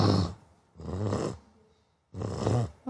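A girl imitates snoring: three loud, rasping snore-like breaths spaced about a second apart, close to the listener, with short quiet pauses between them.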